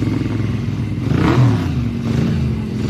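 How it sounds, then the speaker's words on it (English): A classic sidecar racing motorcycle at a pre-TT road race fires up and revs, a dense rumbling engine roar building to a peak mid-way and holding steady, loud and close with no talk over it. "Those beautiful sounds of the engine."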